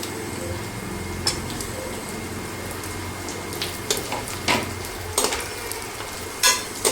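Carrots sizzle in oil in a frying pan with fried onion while being stirred for rice noodles, a close, steady hiss broken by spoon-on-pan scrapes and clicks, with no talking.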